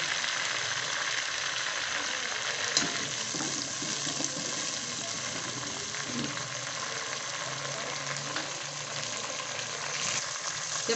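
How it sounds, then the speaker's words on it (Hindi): Mixed vegetables with fenugreek leaves fry on a high flame, a continuous close hiss and crackle with soft stirring scrapes and occasional clinks throughout. "इसके लिए जो है फ्लेम आपने कम नहीं करना, सब्जियों को अच्छी तरह फ्राई करना है।"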